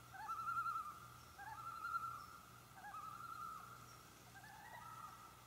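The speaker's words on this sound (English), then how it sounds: "There go the loons." Loons call across a lake in Quetico wilderness, their wavering, tremolo wails rising and falling several times, faint and distant over quiet ambient background.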